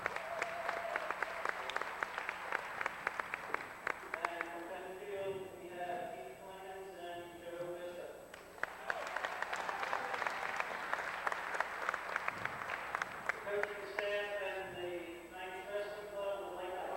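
A crowd at a high school wrestling match applauds in sustained rolling waves of clapping, with voices speaking over it at times and brief lulls between bursts.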